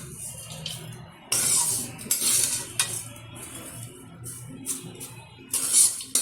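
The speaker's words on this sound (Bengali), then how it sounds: "লাচা সেমাইটা একটা পাত্রের মধ্যে ঢেলে দিচ্ছি।" Fried lachha semai vermicelli poured into a serving dish, with crisp rustling, scraping and clinks of a utensil against the dish in uneven bursts, close and moderately loud, with no talking.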